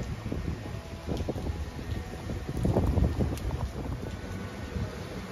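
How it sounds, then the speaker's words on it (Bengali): Strong depression-driven wind gusts along a riverbank near a resort, a loud continuous rumble and buffeting on the microphone that swells in the middle, with no one talking. "নদীর পাড়ে এমনি হাওয়া, আর এখন ডিপ্রেশনের জন্য আরও বেশি হাওয়া দিচ্ছে"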